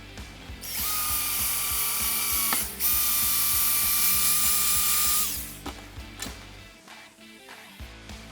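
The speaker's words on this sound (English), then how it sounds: "drill the second hole real quick" A power drill whirs loudly and steadily, drilling a hole during a roof rack install on a third-generation Toyota Tacoma, cuts out briefly, then keeps running before winding down into a few scattered mechanical clicks.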